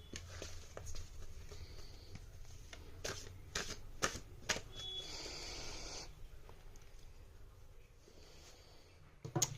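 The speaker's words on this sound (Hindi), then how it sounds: "I will shuffle it again." A tarot card deck being shuffled by hand, giving soft, irregular riffles and taps of cards in several short bursts, with a longer stretch of continuous card rustle in the middle, close and fairly quiet.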